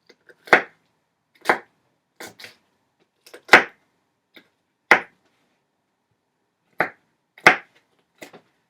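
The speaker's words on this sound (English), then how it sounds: "then you can dice the jalapeno." A knife dices a jalapeno on a cutting board with sharp, isolated chops against the board, about a dozen clean knocks spaced irregularly roughly a second apart in otherwise quiet surroundings.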